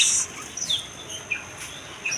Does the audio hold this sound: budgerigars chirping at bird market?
yes